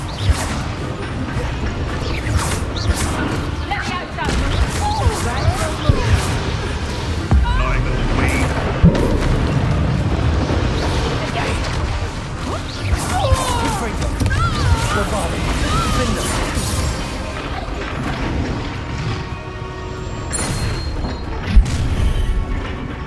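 Bombarda spells in Hogwarts Legacy burst in dense, loud booms and crashes, layered with rumbling debris and game music over a sustained chaotic mix, with voices calling out amid the blasts.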